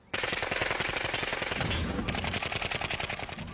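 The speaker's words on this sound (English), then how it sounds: "The gunfire from the Uzi just lit up the place." Rapid automatic Uzi submachine gun fire in a continuous, loud burst of tightly spaced shots, with a slight shift in tone partway through.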